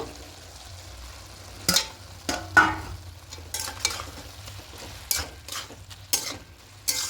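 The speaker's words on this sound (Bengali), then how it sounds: "দিয়ে খুব ভালো করে মিশিয়ে নেব এবার ভেজে রাখা বেগুনগুলো দিয়ে দেব" A spoon stirs fried eggplant into greens frying in a pan, giving soft sizzling under irregular scraping and clacking strokes against the pan, moderately close with no voices.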